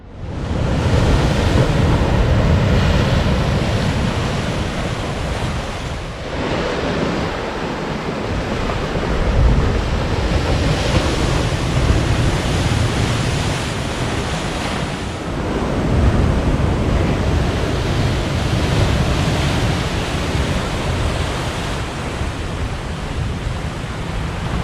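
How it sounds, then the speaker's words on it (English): Surf crashes steadily against a rugged rocky coastline, a loud, continuous roar of breaking waves with swelling surges, mixed with wind buffeting the microphone and no voices. "rugged coastline and crashing waves on the rocks"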